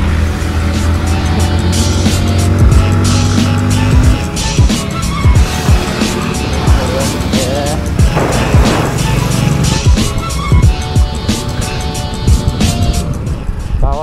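A government vehicle labours up a steep hill road in a rainy, hilly area near a waterfall. The engine note rises and strains, tyres scrabble and crunch over loose stones, and the sound is loud and close.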